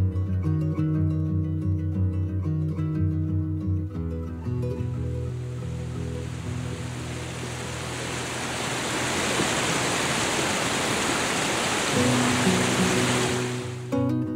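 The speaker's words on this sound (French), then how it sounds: "on pense aux 3 chutes du Carbet, qui font partie de la rivière du Grand Carbet" The Carbet falls on the Grand Carbet river near Capesterre-Belle-Eau, Guadeloupe, give a broad, steady rushing roar that swells in after a few seconds and runs on beneath sustained music, then fades near the end.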